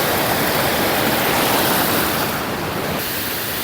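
Rushing water from a low waterfall and clear river at Mauban, Quezon roars as a dense, steady wash, close and loud, with no voices.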